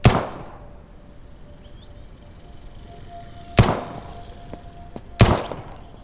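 Three sharp, loud unsuppressed gunshots ring out in the survival game SurrounDead, spaced irregularly with a trailing decay after each, against a quiet ambient background with faint bird-like chirps.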